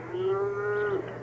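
A single drawn-out cow moo from a dairy cow due for milking, sounding close and steady for about a second over a low windy background on a farm in a radio drama.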